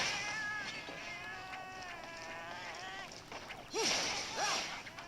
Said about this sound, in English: Also, they just won't shut up. Constant meows.